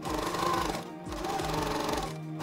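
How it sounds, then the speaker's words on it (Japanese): A sewing machine stitches lace onto an apron about 5 mm from the edge, running steadily with a fast mechanical chatter and rhythmic low thumps, briefly pausing twice, close and loud. "ミシンで5ミリくらいのところを縫って縫い付けます。"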